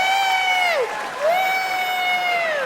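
A stand-up comedy audience lets out a loud, drawn-out whooping cheer in two long rising-and-falling bursts with a short gap between them, backed by faint clapping.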